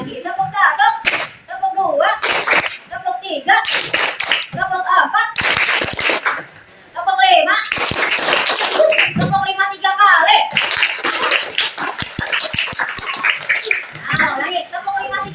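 Primary-school children in a classroom play a counting clap game, with bursts of hand claps in quick groups between spoken counting, a teacher's voice and children's voices running over the claps.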